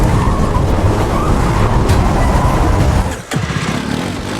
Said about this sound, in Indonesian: Dengan menggunakan sepeda motor, Parti dan Napoleon mengejar Anthony beserta banyak anak buahnya